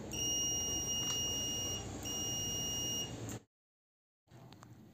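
A multimeter set to continuity mode, checking a faulty push button on an induction cooker, gives a steady high electronic beep that holds for about three and a half seconds with a brief dip, then cuts to silence before faint handling noise.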